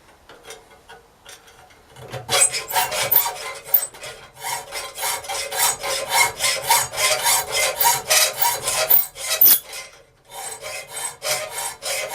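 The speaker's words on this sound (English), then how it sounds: "some filing there, a little bit munged, a little bit of filing" Metal file rasping against a heart-shaped hasp, rapid rhythmic back-and-forth strokes that start after a quiet opening and continue loud and close, with one brief pause near the end.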